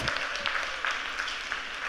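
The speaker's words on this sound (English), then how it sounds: "a big round of applause." Audience applause at an Inner Wheel South Asia rally gathering, steady moderate clapping from a crowd with a few sharper individual claps standing out.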